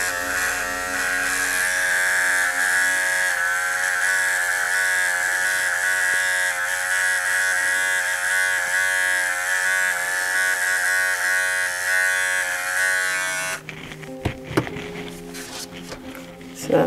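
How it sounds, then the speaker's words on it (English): Electric clippers buzz loudly and steadily while shaving the paw pad of a Labradoodle puppy, a constant close hum that stops near the end, giving way to handling noises and rustling. "And then shave that pad."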